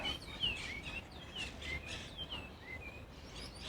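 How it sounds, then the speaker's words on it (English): Several birds chirp and tweet outdoors in short, scattered calls, faint and fairly distant, over a quiet background hiss with no voices. "There's a lot of birds."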